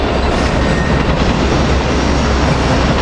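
An ACS-64 electric locomotive hauling a southbound regional train roars past up close, with loud, steady wheel and rail rumble and a faint clickety-clack, filling the whole stretch with no voices.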